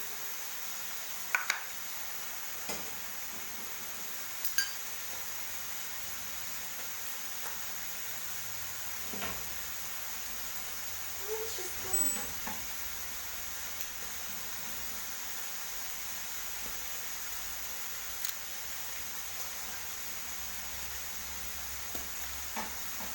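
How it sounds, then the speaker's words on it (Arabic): Butter melting in a pan for a quiche filling, a quiet steady sizzle and hiss with a few soft clinks and scrapes as it is stirred, no voices. "نخلي الزبده تذوب"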